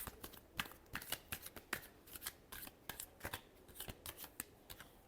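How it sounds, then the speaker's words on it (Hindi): Tarot cards being shuffled by hand, a quick run of crisp papery riffles and slaps in uneven bursts, close and clear with no talking. "last shuffle"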